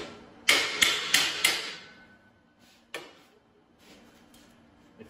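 A rubber mallet taps boltless shelving supports during assembly: four quick sharp knocks in a row, then a single knock a moment later and a faint one near the end, close and bright.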